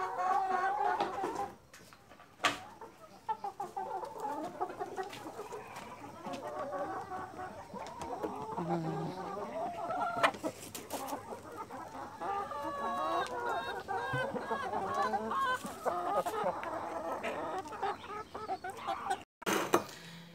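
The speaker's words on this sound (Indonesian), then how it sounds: "cuma ngasih makan ayam" A flock of chickens clucks and chatters continuously nearby, with occasional sharp knocks and rustling mixed in.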